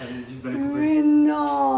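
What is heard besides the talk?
None of the usual background noises is heard.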